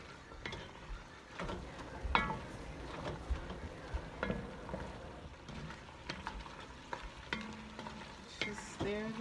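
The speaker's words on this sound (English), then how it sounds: "Just stir that until it is all incorporated" Tomato paste cooks down in a chili pot while a spoon stirs it, a soft low bubbling sizzle punctuated by repeated scraping strokes and light knocks against the pot.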